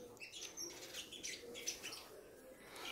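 Faint, high chirps and tweets from caged sunbirds come in scattered bursts over a quiet background, with no talk.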